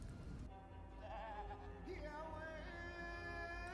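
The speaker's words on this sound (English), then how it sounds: "Goat." A goat bleats in a drawn-out, wavering cry that rises and falls against a dense, steady background of other sound.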